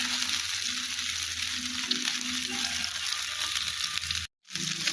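Paneer fingers fry in hot oil with a steady, fine sizzling hiss and a low background hum, continuous and close, broken by a brief gap near the end.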